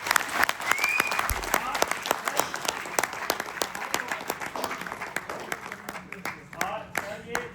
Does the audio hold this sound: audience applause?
yes